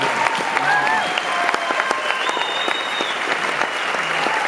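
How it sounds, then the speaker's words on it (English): Applause from a summit audience at a closing speech fills the room, dense and continuous, with faint voices and a few whistles or tones running through the clapping. "I want to give a big round of applause to Michael Neiman"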